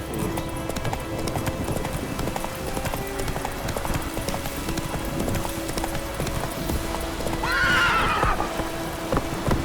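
Hooves of a horse in the video game The Witcher 3 clip-clop at a steady gallop, with a short whinny near the end, set against soft ambient rain and background game sound.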